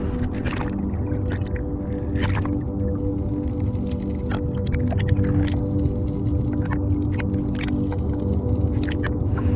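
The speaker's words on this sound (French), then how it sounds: "à essayer de faire des cercles d'eau avec ces bulles" Air bubbles from divers rise underwater during a dive off Marseille, bursting in a steady bubbling wash with irregular gurgles and clicks over a constant low underwater rumble.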